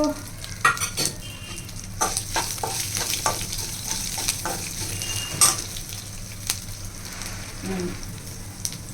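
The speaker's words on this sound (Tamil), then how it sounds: "இது அப்படி வதக்கிற வேண்டியதான்" Andhra-style greens are sautéed in a pan, giving a soft, steady sizzle broken by repeated scraping and stirring clinks from a utensil, heard close and fairly quiet.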